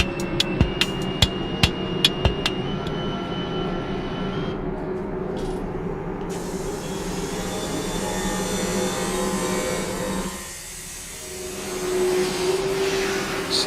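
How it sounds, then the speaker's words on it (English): Industrial factory samples play back: a steady mechanical roar and hum that opens with a few sharp metallic knocks and later shifts and swells, loud, with no talk. "samples are industrial samples from a lot of factories which are long gone"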